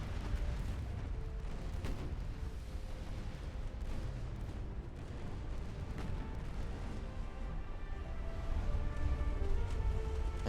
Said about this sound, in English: That's an ammo detonation.